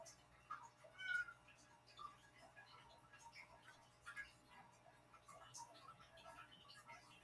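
A pet cat meows several times indoors, faint, short cries scattered over a low steady hum, with quieter mews continuing in the background.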